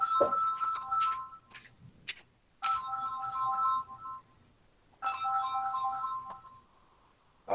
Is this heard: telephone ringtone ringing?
yes